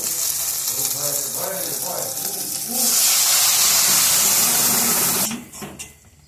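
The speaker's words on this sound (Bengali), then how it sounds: "এবার সেদ্ধ করে রাখা ডালটাকে ঢেলে দেব" Boiled masoor lentils tip into a pan of frying ginger-garlic tomato masala, the loud sizzle surging into a broad hiss before cutting off abruptly near the end.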